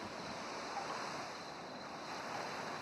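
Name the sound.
ocean waves on a beach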